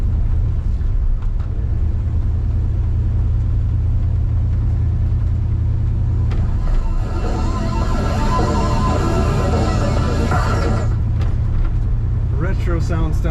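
A 1974 Ford F100 Ranger Stepside pickup drives along, its engine keeping a steady low rumble throughout the clip while someone talks over it in the cab.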